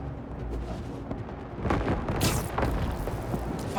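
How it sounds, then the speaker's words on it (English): Fireworks bursting in the open-world game Marvel's Spider-Man 2, a run of booms and crackling pops over a steady rumbling bed, growing louder partway through. "Fireworks? Probably without a permit."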